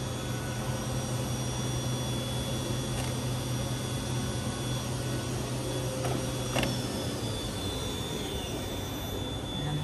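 A CNC machine spindle (GMT 2601) running steadily at its maximum 7500 RPM, a continuous even whine with a low hum and faint high tones, holding constant throughout with no talk.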